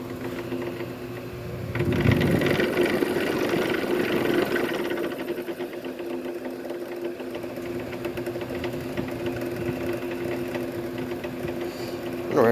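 A Mistral Gyro Aire electric fan runs steadily at a set speed with its speed control in use, giving a continuous motor hum with a fluctuating whir that swells briefly near the start, close by and with no talk.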